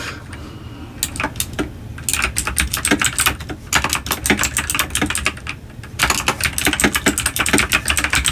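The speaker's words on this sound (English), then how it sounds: "Sorry for the loud clickiness of the keyboard." Rapid, loud clicking of a mechanical keyboard being typed on, in uneven bursts with brief pauses between runs of keystrokes.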